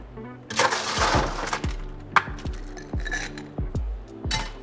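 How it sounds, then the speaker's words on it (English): Ice cubes tumble into a glass for a ginger beer mule cocktail, a series of close, sharp clinks and knocks in an irregular rhythm, with a brief rattle of pouring ice near the start. "And then we'll fill our glass with ice."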